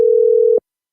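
A telephone ringing tone on a call, heard as one loud, steady, close electronic tone that holds for just over half a second and then cuts off into silence.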